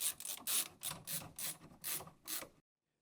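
A ratchet tightens screws on a radiator bracket inside a Silverstone RM52 rack-mount PC case: about six close, loud rasping clicks in an even rhythm, then silence.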